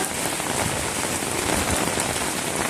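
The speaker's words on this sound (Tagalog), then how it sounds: "Lakas ng ulan." Heavy rain pours down in a dense, loud, steady hiss of drops hitting surfaces close by, with no voices.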